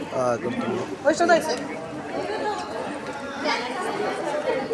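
Crowd celebrating in Solapur after an uncontested nagar panchayat election result, a dense chatter of many voices with shouts and cheers rising over one another, close and continuous throughout.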